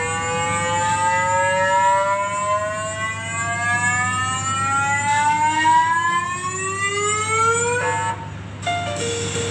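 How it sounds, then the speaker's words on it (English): SAM instrument on the Curiosity Mars rover, tested in a lab, resonating as a soil sample is fed in, a loud rising multi-tone whine sweeping upward over a steady low hum, then breaking off abruptly near the end. "When we're introducing a sample into SAM, it'll go through a resonance and it'll sound like this."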